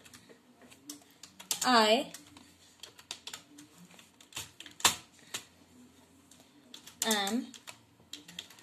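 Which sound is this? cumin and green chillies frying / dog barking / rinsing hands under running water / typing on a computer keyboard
typing on a computer keyboard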